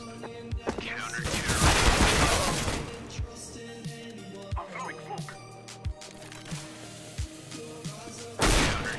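Rapid bursts of gunfire in the video game CS:GO, with several loud shots and volleys over game effects and speech, sharp reports recurring through the clip and a heavy burst near the end.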